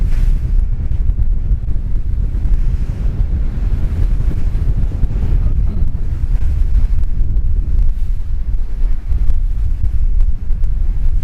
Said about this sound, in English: This is a particular area of rough water.